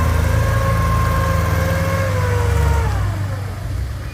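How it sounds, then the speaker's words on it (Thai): A tractor engine drones loudly nearby while pushing soil down a steep slope, its pitch sagging under load as it works, then easing off slightly toward the end. "รถไถดันลงอย่างนี้ครับ"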